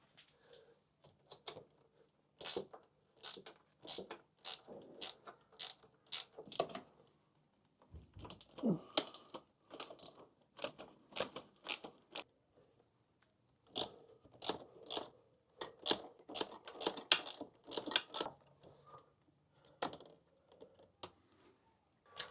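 A ratchet on a KTM motorcycle clicks in quick, faint bursts while loosening the steering damper bolts, with rhythmic ratcheting runs broken by brief pauses.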